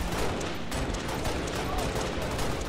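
Dense, continuous gunfire in Halo Reach, a loud sustained barrage of overlapping shots with speech mixed in underneath.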